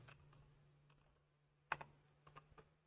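Sparse computer keyboard keystrokes sound while someone types code, a few isolated clicks and a short cluster of taps, quiet and close against a faint steady hum.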